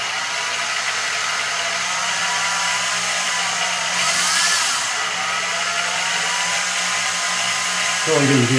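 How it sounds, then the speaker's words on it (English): A drill bit grinds through a lubricated coin while a crown-shaped ring is being made, a steady whining drone that holds for several seconds before a sharper burst at the end. "Okay, now let's drill it."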